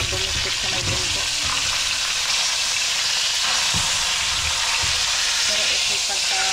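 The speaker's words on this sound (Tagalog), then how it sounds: "Babalik na rin na natin yung ating isda na pinirito." Fish fries in a pan with a loud, continuous hissing sizzle, close up, with a few soft knocks and clatters from the cookware.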